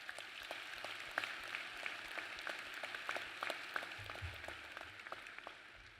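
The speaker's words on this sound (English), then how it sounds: "you deserve a round of applause" Audience at a university winter commencement ceremony claps for graduates' supporters, a faint, distant wash of dense applause in a large hall with individual claps popping through, steady for the whole stretch.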